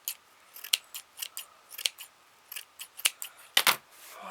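Scissors cut tulle for a pompom in a string of short, crisp snips. The clicks come close together at an uneven rhythm, sharp and close by with no talk over them.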